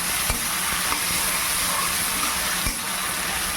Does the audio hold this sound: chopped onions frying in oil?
yes